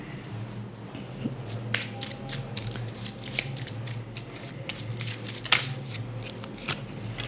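A tarot card deck being shuffled and handled up close, with a series of crisp riffling snaps and soft papery taps over a low steady background hum.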